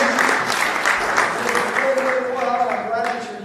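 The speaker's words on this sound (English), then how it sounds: "give yourselves a round of applause" Men at a church retreat's Friday night session give themselves a round of applause, loud sustained clapping from a sizeable crowd, with some voices and a speaker audible through it.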